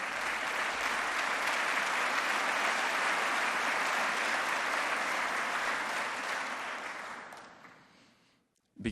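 Sustained audience applause at the State of Metro address in Nashville, a dense, loud clapping wash lasting about seven seconds before tapering off to near silence.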